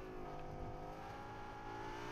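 A vehicle engine revs steadily in the Fortnite video game, a continuous droning whir that holds a sustained pitch throughout, fairly quiet and with no talking over it.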